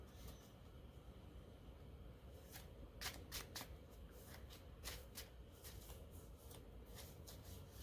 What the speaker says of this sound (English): Making it look like you're still shuffling the deck,